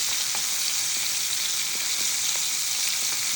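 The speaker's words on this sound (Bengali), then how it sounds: "বাংলাদেশে টাটকিনি মাছ ভেজে নিচ্ছি" Tatkini fish frying in a pan, a dense, continuous sizzle heard close up, with faint crackles and pops scattered through the steady hiss and no talking.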